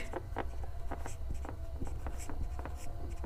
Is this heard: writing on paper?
yes